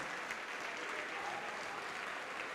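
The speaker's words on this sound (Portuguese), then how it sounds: "Vamos aplaudir mais, igreja" A church congregation applauds steadily throughout, a dense, even wash of many hands clapping at moderate level with no pauses.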